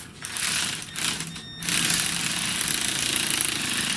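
An impact gun working on the transmission of a 2010 Chevy Equinox during a transmission replacement: a close, loud mechanical rattling hammer that stutters briefly, then runs steadily to the end.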